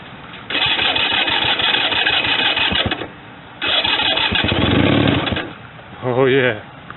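Engine of a 1965 Honda CB160 motorcycle being started after restoration, with choke on: loud bursts of cranking and sputtering churn in two long stretches, stopping between, followed by a brief wavering rev near the end.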